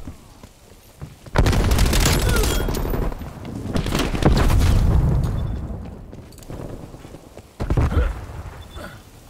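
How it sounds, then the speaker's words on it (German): Grenade blasts and bursts of gunfire from Black Ops Cold War on PS5, loud and dense, with a heavy explosive rumble in the middle and another sharp burst near the end. "Eine Granate war das."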